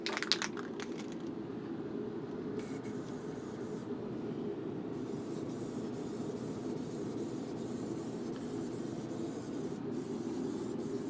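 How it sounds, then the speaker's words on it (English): A spray can of Montana Colors indoor protective varnish hisses in a continuous, fairly faint stream, applied to artwork painted on recycled records. "I'm using Montana Colors Indoor Protective Varnish."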